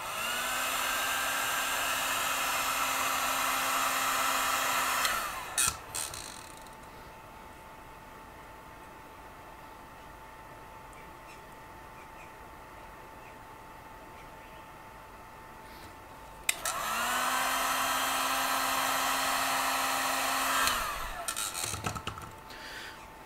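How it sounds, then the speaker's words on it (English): A heat gun shrinks heat shrink tubing on wiring for a guitar speaker power reduction box. It blows in two steady, whooshing bursts of about five seconds each, with a low hum under the airflow and quiet handling clicks between them. "why do you use a heat gun for shrinking the heat shrink tubes?"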